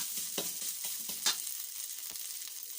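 Chilies stir-fried in leftover egg-frying oil at the bottom of a wok, a steady close sizzle with a few scraping stir strokes.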